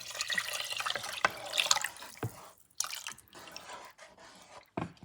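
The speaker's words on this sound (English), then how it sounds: "And now you add your broth, or stock I should say." Beef stock pours and splashes into a pot of ramen, a close liquid gurgle with dripping, fading into irregular drips and small splashes, no talk.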